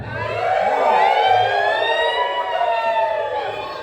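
Children's voices imitate a fire engine siren in a long wavering wail, rising and falling in unison, loud and close, during a disaster preparedness session.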